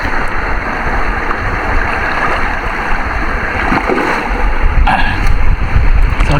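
Waves slap and gurgle against a small boat out on open water in the Philippines, a continuous loud wash of splashing with a sharper surge near the end and no voices.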